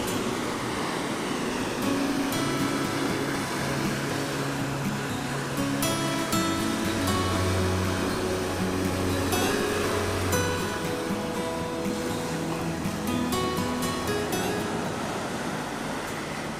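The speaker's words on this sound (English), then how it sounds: "where we get some big waves here." Big ocean waves breaking at a favourite winter coastal spot near a harbor, a steady loud wash of surf filling the whole stretch with low rumbling swells and no voices.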